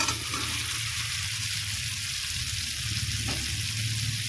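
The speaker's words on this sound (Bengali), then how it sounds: "আমি ভেজে রাখা আলুগুলোকে এর মধ্যে দিয়ে দেবো।" Fried potatoes go into hot masala in a pan, giving a steady, close sizzle with soft stirring and scraping, continuous and without talk.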